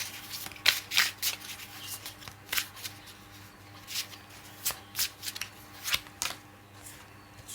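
Tarot cards are shuffled by hand nearby, a rapid string of crisp riffling and slapping bursts in uneven rhythm, fairly loud with no talking.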